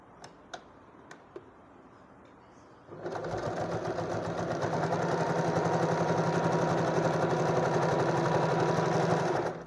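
A sewing machine stitches a fabric seam a quarter inch from the edge. A few faint clicks come first, then a loud, continuous run of rapid stitching that lasts to the end.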